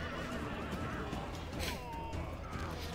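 Horses whinny loudly in the video game Rome Remastered during a battle, one clear neigh rising above a busy bed of hoofbeats and clatter, with no speech.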